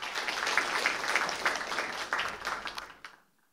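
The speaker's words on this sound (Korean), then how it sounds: "큰 박수 부탁드립니다." Audience at an academic symposium applauds with dense, lively clapping that holds steady and then fades out quickly, ending in near silence.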